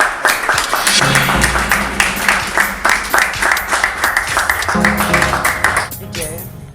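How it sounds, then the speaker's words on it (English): An audience at a library breakfast talk claps for about six seconds, with distinct rhythmic clap bursts over room noise before the applause fades out. "let's give a big applause to all of you"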